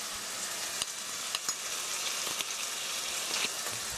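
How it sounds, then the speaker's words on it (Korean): Pork sizzling and frying in a pot as the meat for kimchi stew browns, a steady crackling hiss with a few sharp spatter pops, close and continuous with no talking. "고기가 이렇게 노릇노릇하게 맛있게 잘 볶아졌으면"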